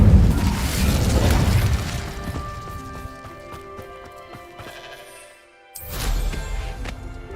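The Incendio fire spell is cast in Hogwarts Legacy: a loud, roaring whoosh of flame at the start fades into ringing, shimmering tones, then cuts to near silence before a second rumbling burst.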